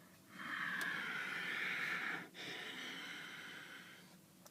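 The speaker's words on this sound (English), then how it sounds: "It's also called oceanic breathing, because it sounds like sort of the waves washing up upon the" Ujjayi oceanic breathing: one long, soft, hissing breath drawn through a narrowed throat, a brief break, then a slow, fading exhale, close and quiet, with no talking.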